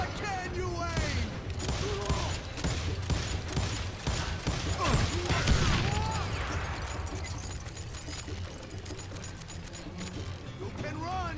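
Rapid gunfire in the Western shooter Call of Juarez: Gunslinger, a dense burst of repeated shots and mechanical clicks mixed with shouting game voices, easing into lighter scattered shots.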